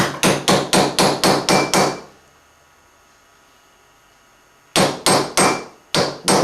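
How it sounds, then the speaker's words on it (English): A heavy hammer strikes a die on a shot plate in quick, evenly spaced blows, a run of about seven loud metallic taps, a pause of near silence, then four more close, sharp hits. "I've got a real big heavy hammer here, and I'm just going to tap it."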